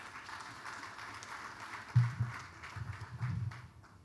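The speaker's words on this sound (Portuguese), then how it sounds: "os vossos aplausos mais uma vez" Audience applause at a ceremony launching the centenary activities for Agostinho Neto comes across as a soft, distant patter of clapping that swells slightly in the second half.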